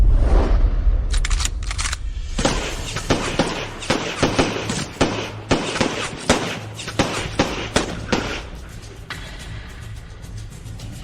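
Rapid gunfire in a Chinese martial-arts drama scene: bursts of sharp, loud shots crack in quick succession and uneven clusters, over a constant roar of background sound and score.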